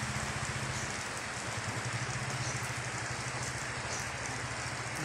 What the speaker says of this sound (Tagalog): Nagtagal yung ulan na yan.